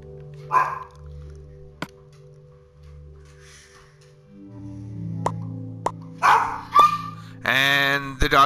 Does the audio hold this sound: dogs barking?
yes